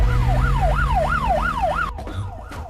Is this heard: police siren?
yes